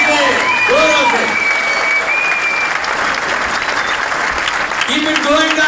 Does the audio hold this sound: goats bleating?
no